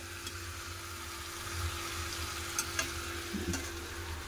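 Meat and spices being sautéed in oil until the water cooks off make a soft, steady sizzle, with a few light stirring scrapes and clinks toward the end.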